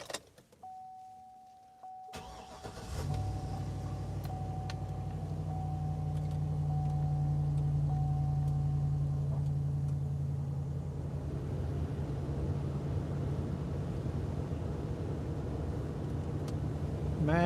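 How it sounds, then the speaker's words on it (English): A 2012 Chevrolet Silverado truck with a 6.0 engine idles loudly with a steady low rumble after a brief power-window whir at the start, continuing evenly close by for the rest of the stretch. "This truck is kind of loud."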